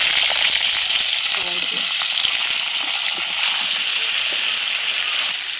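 Pumpkin and potato fry with spices in a pan, making a loud, constant bright sizzle with faint stirring knocks, and nobody talks.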